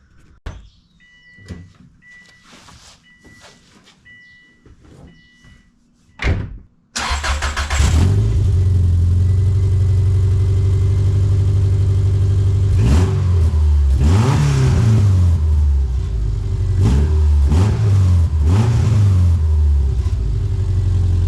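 A few clicks and rattles, then a car fitted with a street bike exhaust cranks and fires up loudly, idling with a deep rumble and several strong revving swells.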